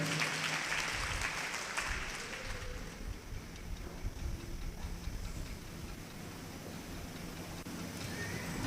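A church congregation claps loudly together during a worship service, a dense, steady patter of many hands kept at a fairly low, distant level for the whole stretch with no voices on top.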